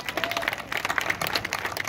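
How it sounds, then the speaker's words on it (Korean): An audience at a farmers' day ceremony in Gyeonggi Province breaks into applause, a dense patter of clapping hands that holds steady for about two seconds at moderate loudness. "박수 한번 주세요 그러면."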